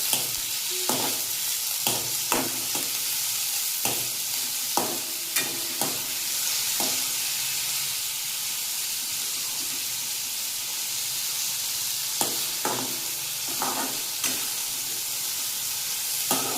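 Bean pods stir-fried in hot oil in a home kitchen, giving a steady close sizzle throughout with repeated sharp clacks of a spatula stirring against the pan.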